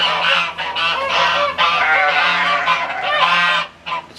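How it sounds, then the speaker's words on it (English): A duck by a pond calls in repeated loud, nasal honking bursts, close and continuous for several seconds. "This is my only duck I have left."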